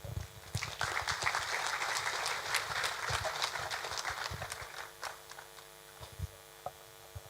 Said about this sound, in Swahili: Asante kwa makofi.